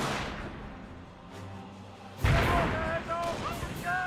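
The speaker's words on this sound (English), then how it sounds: "Mortar firing away." A mortar in the game Company of Heroes fires with one sudden heavy boom partway through, followed by rumbling battle noise while someone talks over it.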